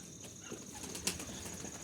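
A faint, quick flutter of pigeon wings, one short flapping burst in a quiet setting.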